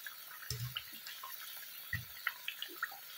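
Water draining and dripping, with scattered small plinks and drops over a soft steady background hiss and a couple of low thumps.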